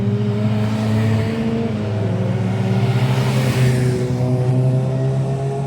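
Honda racing cars at Snetterton circuit, loud engines roaring past in a dense overlapping pack, the tone swelling and dropping as they go by.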